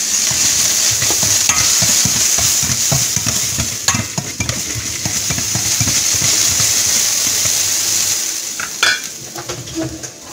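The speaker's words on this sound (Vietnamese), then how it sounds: "Ba thứ mà tôi sẽ sử dụng vào đây để tôi chiên xào lấy trước." Ginger, lemongrass and minced chili stir-fry in a hot pan as the base for a sour-spicy hotpot broth, a loud continuous sizzle broken by repeated scraping and clinking of a utensil against the pan, with no talking.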